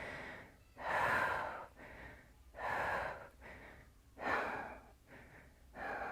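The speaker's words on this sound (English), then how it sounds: "going to take a deep breath in, filling up your lower belly like this. And you're going to exhale" Slow, deep breaths in and out during a belly-breathing exercise, four long airy exhales alternating with quieter inhales at a steady, relaxed pace, close and clear with no talking.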